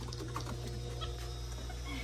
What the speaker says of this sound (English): That bird is an intruder, right, Angelica?